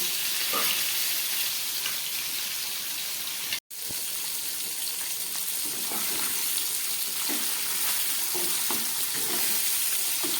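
Fish bones frying in oil on a low flame for a fish-head chhechra, a steady dense sizzle with soft crackles throughout and one brief dropout partway, no voices.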